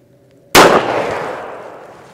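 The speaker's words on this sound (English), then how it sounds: "First load is the little J-frame revolver with the 125 grain plus P load." A single loud, sharp report from a .38 Special +P 125-grain load fired from a 2-inch J-frame revolver. The blast is close and its echo fades out over about a second and a half.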